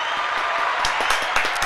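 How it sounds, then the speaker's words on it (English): Audience applause on a show, a short burst of dense clapping with a few sharper individual claps standing out near the microphone. "Can we get a round of applause for Sean?"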